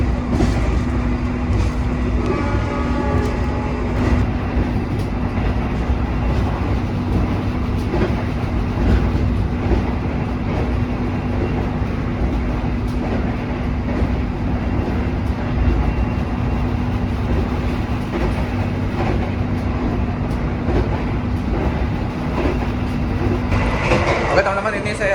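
Steady rumbling of the Sembrani luxury-class passenger train rolling along the rails, heard from the vestibule, with a constant low hum, close and continuous, faint voices mixed in.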